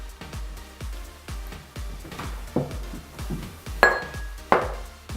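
A spoon stirs homemade donut batter in a bowl, thumping and scraping in a steady rhythm of repeated strokes, with a couple of sharp clinks against the bowl near the end.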